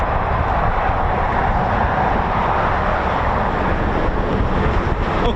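Red Arrows aerobatic jets flying at RAF Waddington, a steady, loud broadband roar that holds throughout with no breaks, mixed with wind buffeting on the microphone.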